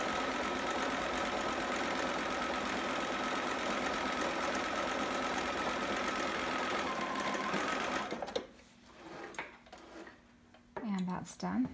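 A sewing machine runs steadily for about eight seconds as it stitches fabric for a Riley long john sitter, a loud continuous mechanical whir, then stops, leaving quiet handling noises and a brief voice.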